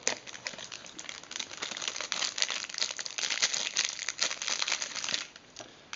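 Packaging from a Motorola Razr phone crinkles and rustles up close as it is unwrapped, a busy continuous crackle that fades out near the end.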